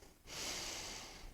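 During a full-body, no-equipment workout of reverse lunges, a single sharp breath is drawn in through the nose, close and fairly quiet, with no talking.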